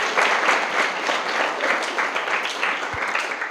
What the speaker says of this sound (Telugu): గట్టిగా చప్పట్లు కొట్టండి ఒకసారి.